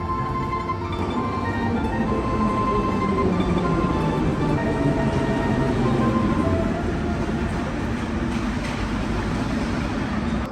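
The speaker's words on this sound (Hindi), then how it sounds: "ये ताशकंद का सबसे सुंदर मेट्रो स्टेशन है" A metro train rumbles through Alisher Navoi underground station in Tashkent, Uzbekistan, a loud, steady roar of wheels and carriages filling the space, with faint background voices.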